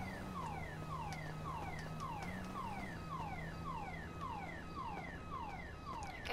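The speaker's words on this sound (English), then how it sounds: "There's a car alarm going off somewhere." A car alarm in Grand Theft Auto V wails nearby in a fast, repeating cycle of falling electronic chirps over a low steady hum.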